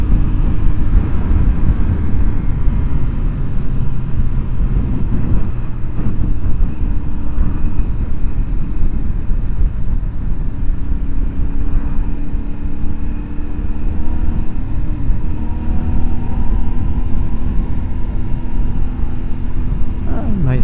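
A CFMOTO 450SS sport motorcycle cruising at highway speed in fifth gear, its engine a steady low drone under heavy, continuous wind rumble, with the pitch slowly rising as it pulls hard.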